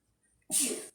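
A single short sneeze, close and fairly loud, bursting out after near silence.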